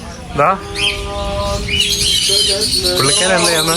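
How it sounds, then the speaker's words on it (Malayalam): Parrots and other caged birds at an Istanbul pet market chirp and squawk loudly close by, sharp bursts and tweets overlapping, while a person speaks briefly among them. "തത്തമ്മയും ഇതൊക്കെ വിൽക്കുന്ന ഇതാണ്."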